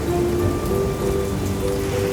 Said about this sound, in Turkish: Rüzgar, yağmur, dolu.